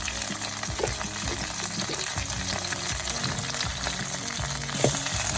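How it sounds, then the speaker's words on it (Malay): Steady hot-oil sizzling of coriander and curry leaves frying in a pan, a continuous crackling hiss with occasional louder pops and light stirring clatter. "kita gorengkan daun ketumbar, daun kari,"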